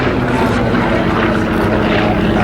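A Vought F4U-4 Corsair with its 2,250 horsepower Pratt & Whitney R-2800 Double Wasp 18-cylinder radial engine and large propeller climbs at an air show, giving a loud, steady, rough propeller drone throughout.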